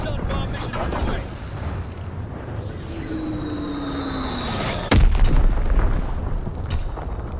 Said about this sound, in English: Missile bomb mission on the way.